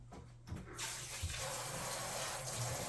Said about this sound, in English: gonna rinse my spatula off real quick